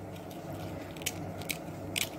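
Crisp fried snack made from poha and besan is bitten into, giving three sharp, close crunches about half a second apart over a quiet background.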